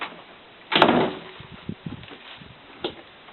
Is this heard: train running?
no